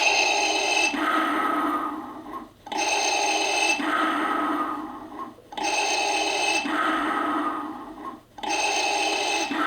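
A Star Wars Black Series toy plays its mechanical breathing effect, four slow, loud, hissing breath cycles with brief silent gaps between them.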